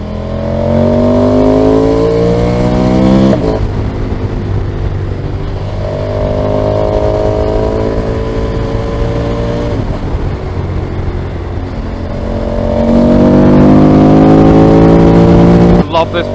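A motorcycle engine runs continuously while riding on the A487 in sunshine, its revs climbing and dropping through several gear changes, loud and close with steady road and wind rumble underneath.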